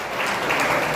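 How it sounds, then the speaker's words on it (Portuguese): Church congregation applauding during a sermon, a brief, dense and steady burst of many hands clapping. "Aplauda o Senhor com alegria."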